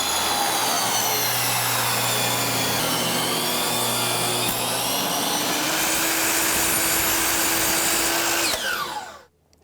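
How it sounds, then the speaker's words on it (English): A power saw rips wood into 2 inch strips while building cabinet boxes, a loud, continuous whining cut that runs for several seconds before winding down and stopping abruptly. "So I'm going to rip some pieces at 2 inch."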